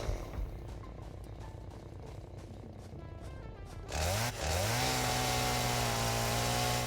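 A chainsaw runs in a factory-building video game, first sputtering and rattling, then revving into a loud, steady high drone partway through, with no talk.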